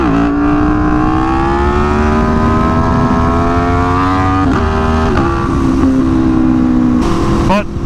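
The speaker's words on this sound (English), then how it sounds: "I will do a wheelie for you right now" An Aprilia Tuono V4 motorcycle engine revs hard and close during a wheelie, its steady high-pitched drone rising and dipping through several throttle changes, with wind buffeting and a sharp burst near the end.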